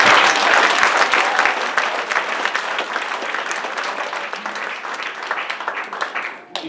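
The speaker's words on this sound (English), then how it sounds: "Let's give the Lord a big hand clap of praise." A church congregation claps loudly in praise during a worship service, a close, vigorous burst of hand clapping that slowly thins and fades out near the end.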